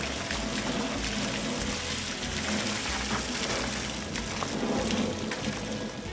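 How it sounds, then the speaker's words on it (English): Water sprays steadily over green chiles tumbling in a spinning roaster, giving a continuous rushing, splashing hiss throughout. "So we wash off all the dirt and it cools it down a little bit"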